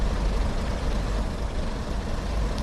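A diesel train engine in Train Sim World, with power applied to create brake vacuum, gives a loud, low, rumbling throb that holds steady with slight swells throughout.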